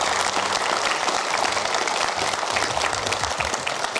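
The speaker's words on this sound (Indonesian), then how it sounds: "Boleh tepuk tangan dulu untuk berita-beritanya" A studio audience claps steadily for several seconds on an Indonesian talk show, a dense, even patter of many hands with no voices over it.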